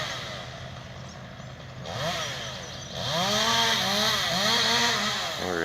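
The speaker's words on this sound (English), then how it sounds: "he's chainsawing out the little stuff there" A chainsaw cuts small branches during extreme tree trimming, its engine idling steadily and then revving up in rising, repeated surges as it bites into the wood, heard from a distance.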